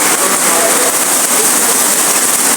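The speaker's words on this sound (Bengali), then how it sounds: "মানে যারা বলেন ঢাকা শহর বৃষ্টি নেই, এসে একবার দেখা যায় এরকম বৃষ্টি" Heavy rain pours down in Dhaka city as a loud, dense, continuous hiss and patter, close and steady from start to end.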